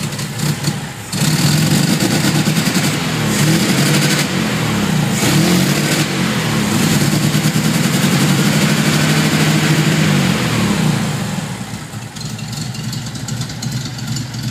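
A 1972 Mustang fastback with a fuel-injection problem catches and settles into a steady, loud, close engine rumble that holds evenly, then eases to a slightly lower idle near the end.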